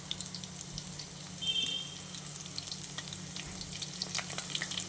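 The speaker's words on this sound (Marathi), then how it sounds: "ती थोडंसं फ्राय झाल्यावर मग थोडं एका साईडला पलटी करा" Prawn lollipops fry in oil, a soft, steady crackling sizzle with scattered small pops, quiet and close, with no speech.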